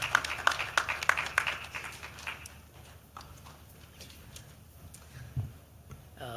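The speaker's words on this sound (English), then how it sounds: "Ladies and gentlemen, can we please give him a round of applause as he makes way to the stage." Conference audience at an HIV prevention event applauding as a speaker walks up, with brisk clapping that is loudest at first and then thins to scattered claps, plus a thump near the end.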